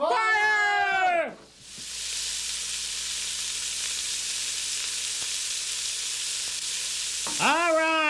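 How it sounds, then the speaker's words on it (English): Chopped ingredients sautéing in a pan give a loud, steady sizzle and hiss that runs unbroken for several seconds, with bursts of bleating, sheep-like sounds at the start and end. "we're gonna saute this up"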